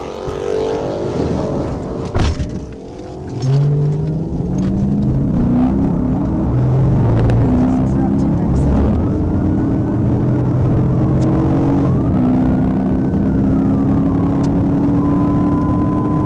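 Ford Mustang muscle car accelerating hard away from a police car, a loud continuous engine roar with rising pitch sweeps as it gears up, sustained and close throughout.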